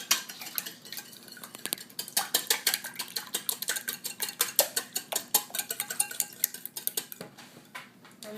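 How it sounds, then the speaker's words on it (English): Eggs beaten with a whisk in a bowl for French toast, giving a steady run of quick, close clicking and tapping strokes against the bowl for several seconds, with no talk. "Take the whisk and we'll mix the eggs together."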